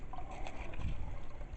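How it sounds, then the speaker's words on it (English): Spring water trickling and dropping into a square sediment-settling box, a steady close gurgling flow with small splashes, running continuously on its own. "water comes in from the spring right in there, and it drops into this box, this square box"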